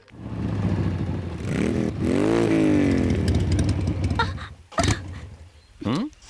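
A motorcycle engine running out of petrol sputters and revs loudly at close range, its pitch rising and falling, then cuts out into short dying bursts. A voice may sound briefly beneath it.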